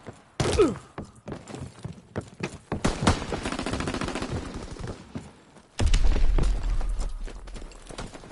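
Enemy gunfire in a PS4 war game crackles in sharp, irregular bursts and volleys, with a heavy, loud blast of fire toward the end.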